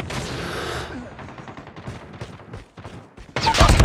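Rapid bursts of automatic gunfire from the Call of Duty Mobile video game, dense and loud, with continuous rattling shots at the start and end and scattered shots through the middle, no talking.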